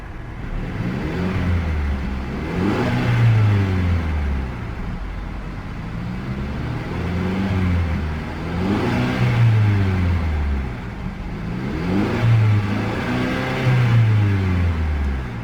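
A 2017 Mercedes-Benz C200 SE engine starting and revving repeatedly, rising and falling in pitch in steady cycles, loud and close with no talking.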